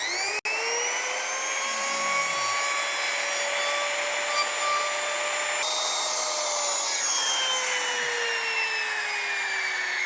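A small trimmer router cuts wood to fit a box hinge, a steady high whine running continuously and loud throughout, pitch shifting slightly midway as the cut progresses.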